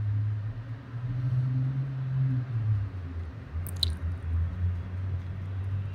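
Vegetable rice ingredients seasoned with salt and pepper powder are stirred together for a Mexican-style dish, giving soft, steady squishing and mixing noises over a low constant hum, with no talking.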